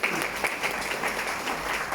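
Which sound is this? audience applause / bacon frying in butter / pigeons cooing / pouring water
audience applause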